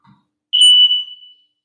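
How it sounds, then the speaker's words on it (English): A loud, piercing electronic beep sounds once, held for just under a second, then fades, with a faint knock just before it. "Of course, the smoke alarm."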